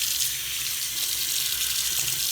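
Water runs from a tap in a steady, loud, broadband gush while tie-dyed 2XL and 3XL sweatshirts are rinsed, the flow continuous and even throughout with no talking.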